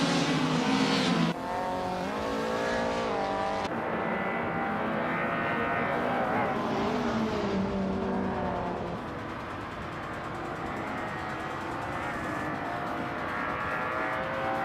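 Race cars, including a 2011 Fiat Punto Abarth, roar past in a racing game, layered engine whine shifting pitch with tire squeal, loud and continuous.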